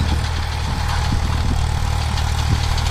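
A Powertrac 439 Euro tractor engine runs steadily close by, a constant low diesel throb with faint knocking, fitted with a cultivator; no voices.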